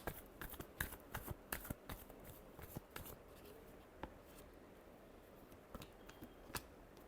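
Tarot cards being shuffled at close range, a quick run of crisp riffling flicks and soft slaps in bursts, fairly quiet and alone with no voices.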